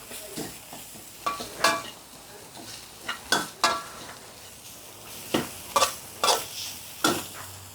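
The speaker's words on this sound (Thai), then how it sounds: "คั่วให้หอมๆก่อน เราไม่ใส่น้ำมันนะคะ" Thai curry paste dry-roasted and stirred in a pan without oil for a pork dish, with scattered scraping stirs and a soft sizzle at close range, no talking.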